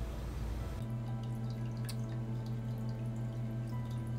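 Aquarium water drains from a frag tank down a drain line into a sink, a faint steady trickle with a low hum and scattered small drips, heard alone.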